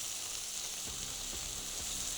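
Prawns searing in a very hot pan with a thread of olive oil, giving a steady, bright hiss of sizzling that runs without a break, with a few soft low knocks as they settle.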